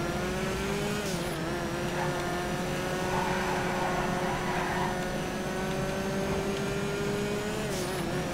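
A Stinger sports car in a video game holds a steady engine drone that dips and rises slightly as it revs, continuous and fairly loud throughout with no talking.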